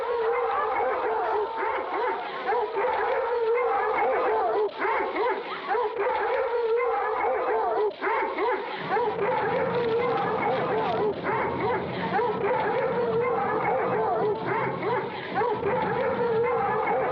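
A pack of hounds barks, yips and howls continuously in a loud, dense chorus, with speech mixed in beneath the baying throughout.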